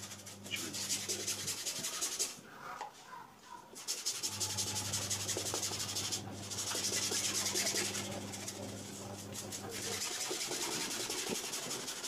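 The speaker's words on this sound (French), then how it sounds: "Je voudrais vous montrer comment nettoyer une chemise blanche rien qu'avec une brosse et le savon." A brush with soap scrubs a white shirt in fast, rhythmic back-and-forth strokes, heard close up over a steady low hum, pausing briefly twice.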